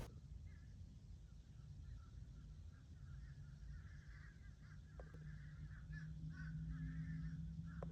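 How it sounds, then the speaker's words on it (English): Crows caw harshly from the trees in scattered, repeated calls at a middle distance. A steady low hum runs underneath, and a sustained low tone enters near the end. "The crows have been going absolutely crazy out there for about an hour now."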